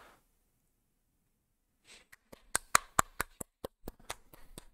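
A single person clapping hands after a perfect GeoGuessr score, about a dozen sharp, close claps in a loose, uneven rhythm following a brief silence.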